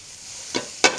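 Mushrooms sauté in a butter sauce with herbs, a soft sizzle broken by two quick stirring scrapes near the end.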